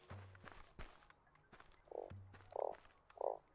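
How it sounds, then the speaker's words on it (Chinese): In the survival video game Starsand, a frog gives a few short, soft croaks in quick succession after some quiet footstep-like thuds, faint and set against a hushed game ambience. "我刚刚好像听到青蛙"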